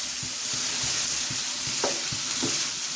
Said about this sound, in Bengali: ডালটাকে একটু ভেজে নিচ্ছি, এই কারণে যাতে ডালের গন্ধটা না থাকে